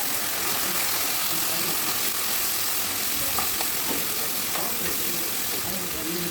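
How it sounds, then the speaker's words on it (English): Green peas being stirred into a frying pan with curry leaves for a potli samosa filling, giving a steady sizzle with scattered scraping clicks of the spoon throughout. "And mix it well."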